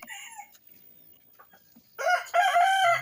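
A rooster crows loudly and close by at a chicken coop, one full drawn-out cock-a-doodle-doo near the end. Quieter clucks and scattered poultry sounds come before it.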